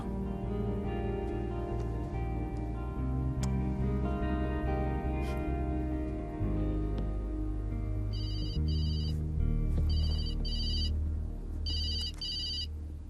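A telephone rings in a French drama film. Music plays first, then three repeated bursts of a bright electronic ringtone cut in over it, clear and fairly close.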